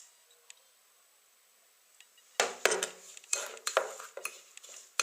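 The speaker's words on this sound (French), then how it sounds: "Surtout vous remuez bien en fait" Metal spoon clinking and scraping in a bowl while stirring a homemade olive oil body scrub, a few faint taps first, then a run of clattery strokes, close up.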